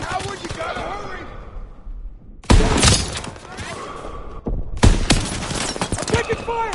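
Video-game gunfire in Call of Duty: sharp bursts of rapid shots and impacts crack out in two loud volleys, with softer battle noise and voices underneath between them.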